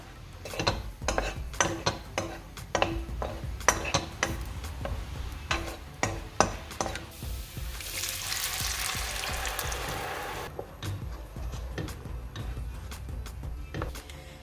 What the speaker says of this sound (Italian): Aggiungiamo circa 2 cucchiai di olio e la nostra cipolla.